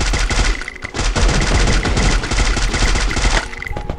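Rapid automatic gunfire from the Free Fire battle royale game rattles loudly and almost continuously, with a brief gap near the start and bursts tapering off at the end.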